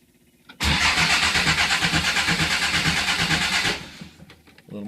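A 1957 Morgan Plus 4 with the choke pulled out cranks and fires, giving about three seconds of loud, rhythmic, pulsing engine noise that then drops back to a low, quiet rumble.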